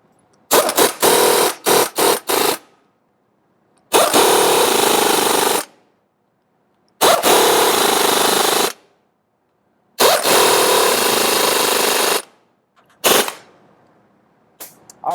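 Impact wrench on a semi truck hub after a wheel seal replacement, driving wheel nuts down in a star pattern: a few short rattling bursts, then several long loud hammering runs separated by pauses, close up.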